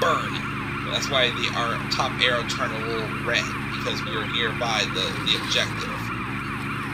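An ambulance siren in the video game Matchbox Emergency Patrol cycles up and down in the background while a person talks over it, with a steady engine-like hum underneath.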